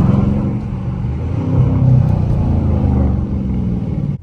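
Car engine revving steadily, a loud close rumble that swells in the middle and cuts off abruptly at the end.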